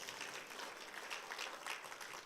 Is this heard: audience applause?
yes